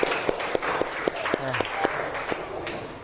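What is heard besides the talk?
audience applause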